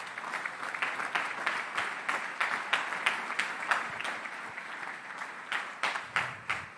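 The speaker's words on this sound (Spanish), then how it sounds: "Denle de nuevo otro aplauso a nuestro Rey" A church congregation applauds during a Sunday service, sustained clapping from a moderately sized crowd with rhythmic claps standing out near the end, heard from within the room.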